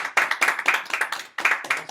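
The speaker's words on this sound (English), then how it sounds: "I just wanted to clap for that" Several people clap in a short burst at the close of a philosophy talk, with loud, irregular handclaps, a brief pause near the middle, then renewed clapping.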